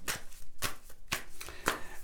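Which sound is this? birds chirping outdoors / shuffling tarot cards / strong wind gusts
shuffling tarot cards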